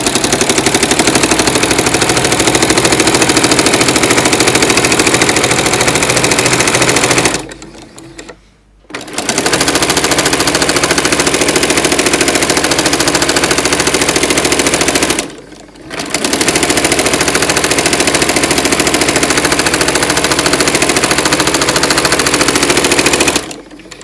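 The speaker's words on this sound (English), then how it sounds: "You're wondering what that clunky clunk noise is, it's this on the walking foot." A sewing machine with a walking foot runs in long loud bursts, its foot clunking up and down in a rapid mechanical rhythm while stitching a notebook cover, with two brief stops between runs.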